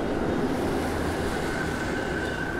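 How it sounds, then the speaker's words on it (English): A New York City subway train rumbles underground, a steady low roar with a faint sustained whine above it, heard from the street without any talk. "I hear the subway"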